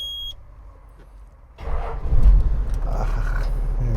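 A vintage Toyota Land Cruiser with a 4.2 litre engine sits quiet after a short warning chime, then cranks and catches, settling into a loud, deep, steady idle rumble close by.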